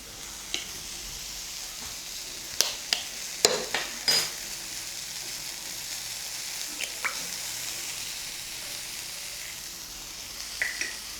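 Tomato egg podimas is stirred in a pan over a soft, low sizzle, with several sharp spatula clacks against the metal in a cluster early on and a couple more near the end; no speech.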